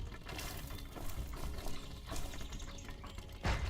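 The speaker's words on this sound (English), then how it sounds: "You definitely hear the water running." Running water from the game Medieval Engineers, a steady trickling stream at moderate level with a brief louder splash near the end.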